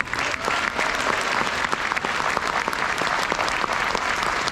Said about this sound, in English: But I again want to applaud our AAPI principals.